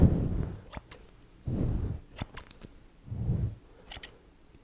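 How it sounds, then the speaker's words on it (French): Thinning scissors snipping through hair in a close, quiet setting, a few crisp metallic snips in small clusters between soft rustling of hair being handled. "je vais me munir de mon ciseau pour désépaissir"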